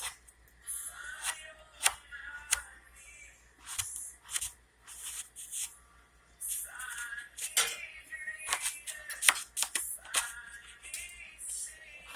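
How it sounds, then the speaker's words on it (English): A knife cuts through eggplant on a board with faint, irregular taps and soft slicing scrapes, spaced unevenly and heard close but quiet, with no talking. "Cut your eggplant in half, and it'll have the seeds and everything."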